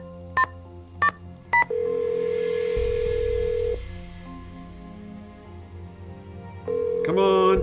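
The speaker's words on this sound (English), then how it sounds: "Okay, let's call George" Telephone dialing in a Nancy Drew video game: three quick touch-tone beeps, then a steady tone that gives way to a low ringing hum, ending in a brighter electronic chime.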